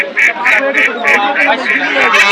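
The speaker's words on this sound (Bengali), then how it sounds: "এগুলো পুরান হাঁস মানে কিছুদিন পরে ডিম দিয়ে দেবে" Domestic ducks at a village poultry market in Nalitabari, Sherpur, quacking loudly and close in a regular run of about eight calls, with people talking underneath.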